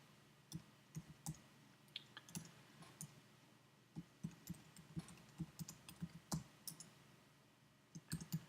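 Typing an email address and password on a computer keyboard: quiet, irregular bursts of sharp key clicks with short pauses between groups, close and alone without talk.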